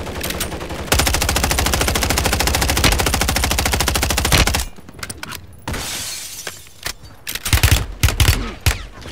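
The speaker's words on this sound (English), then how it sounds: "Taking effective fire!" Sustained automatic gunfire on Ashika Island in Call of Duty: Warzone 3 rattles in a loud, rapid burst lasting several seconds. It cuts off abruptly, and scattered single shots and impacts follow.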